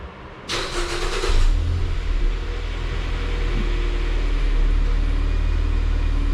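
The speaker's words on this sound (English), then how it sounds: "we're going to go ahead and start the vehicle." A car engine cranks briefly and catches, then settles into a steady low idle that runs on close by, with no one speaking.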